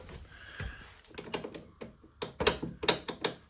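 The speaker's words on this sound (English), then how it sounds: "This is my ZZR1200 and look at this. Rattly." Loose parts on a Kawasaki ZZR1200 motorcycle rattle in a run of close, irregular metallic clicks and taps, growing busier and louder toward the end.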